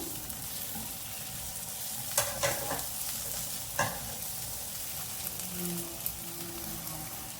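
Capsicum, onion and tomato stir-frying for mushroom fried rice, a steady broad sizzle with a few scraping stirs of a spatula, close and even throughout.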